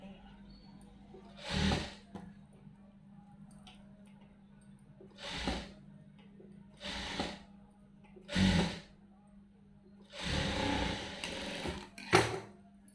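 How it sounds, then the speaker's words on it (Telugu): A sewing machine stitches a blouse in several short bursts of running, each a second or two long with quiet pauses between, fairly close against a steady low hum. "ఇప్పుడు ఇలా వేస్తాం కదా ఇంకో కుట్టు కూడా వేసేద్దాం"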